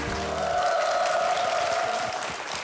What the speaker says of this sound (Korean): 로봇을 통해서 미래 사회를 함께 고민해 볼 수 있는 아주 중요한 시간을 마련해 주신 우리 한재권 교수님께 큰 박수 부탁드릴까요?